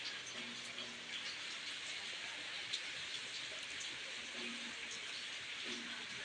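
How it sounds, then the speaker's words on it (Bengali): Steady rain pours down at the traditional Kholputua market, a constant, even hiss of drops on surfaces with no clear voices, heard from within the shelter of the market. "বৃষ্টির হাত থেকে বাঁচার জন্য আশ্রয় নিচ্ছে"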